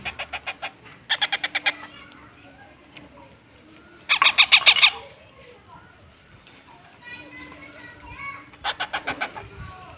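Rescued caged Indian parrots squawking in rapid repeated bursts, several loud harsh calls in clusters with softer chirps between and people talking nearby.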